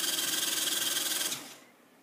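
A small Lego M motor driven as a generator spins with a fast, pulsing whir that cuts off and fades away after about 1.3 seconds.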